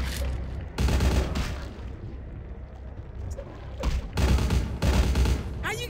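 Gunfire in the video game Vampire: The Masquerade - Bloodlines comes as several loud, close bursts of rapid shots separated by pauses, with a noisy echoing tail after each volley.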